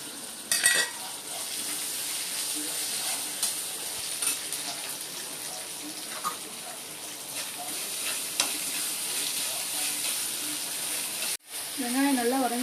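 Onions with salt sauté in a pan for hotel-style sambar, giving a continuous sizzle with occasional stirring scrapes and a clatter near the start. A voice briefly breaks in at the very end.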